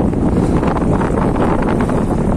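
Strong storm wind buffets a small boat at sea, a loud continuous roar and rumble pressing against the microphone with no letup.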